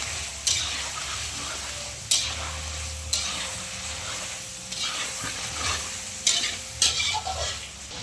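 Chicken coated in ginger garlic paste fries in a pan with a constant close sizzle, broken by repeated scraping stirs of a spatula every second or two.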